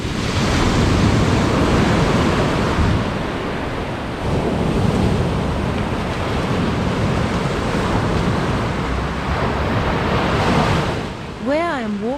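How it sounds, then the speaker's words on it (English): Waves wash steadily over a black-stone beach on the Black Sea coast in Georgia, a continuous loud surf roar mixed with wind buffeting the microphone, with a brief tonal sweep near the end. "Where I am walking right now is the coast of the Black Sea"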